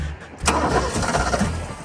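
A cold-blooded yellow car called Monty cranks briefly, then its engine catches and settles into a rough, loud running idle, close by.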